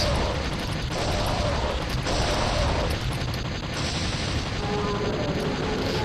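Gunfire from the video game Dino Crisis 2 repeats as a run of heavy, booming shots at roughly one-second intervals over a continuous roaring game background.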